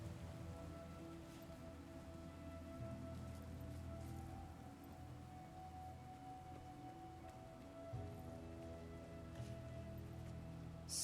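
Rain pours steadily over the swamps of Janthir in Guild Wars 2: Janthir Wilds, a soft continuous hiss with faint droplet ticks and a low ambient drone beneath.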